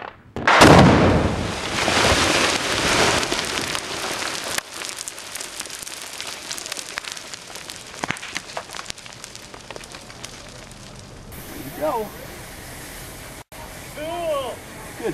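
A single loud rock-blasting explosion booms at the start, then a long rush of falling rock and debris settles and fades, with scattered quieter sounds near the end.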